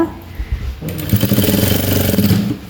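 Sewing machine stitching folded fabric for a round-belt blouse, starting after a brief pause with a loud, fast, steady mechanical rattle that runs close and continuous.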